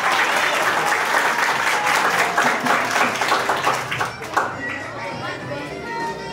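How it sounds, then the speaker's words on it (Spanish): Graduation ceremony applause for student Yadira: a dense, loud burst of many hands clapping that thins out toward the end, with voices mixed in. "Las palmas para Yadira."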